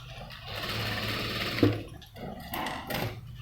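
A sewing machine stitches thin saree cloth slowly, a close, quiet mechanical whir running in short bursts with brief pauses and a small clack between them.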